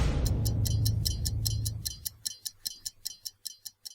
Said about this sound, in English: You cannot help but notice, just at the edge of your hearing, the sound of a pan-dimensional escape room agonizingly contorting itself, and a faint ticking.